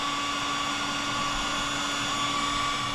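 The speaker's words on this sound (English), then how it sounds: "we'll just hit the whole thing with the heat gun" Heat gun blowing steadily on heat shrink tubing around a Royal Enfield Classic 350 gear lever, a constant close whirring blast with a fixed whine held for the full three seconds, no voices.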